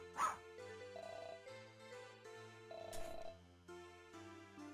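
A dog yaps in short bursts over looping synthesized music in Wanwan Aijou Monogatari on the Casio Loopy, soft and game-like.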